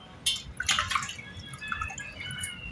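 Water sloshing and dripping as vegetables are rinsed by hand in a bowl of water to remove dirt, with small splashes and trickles close by, no talking.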